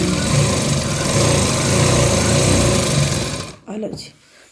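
An inverter-powered sewing machine hums and whirs continuously while stitching a salwar, loud and close, then stops abruptly near the end.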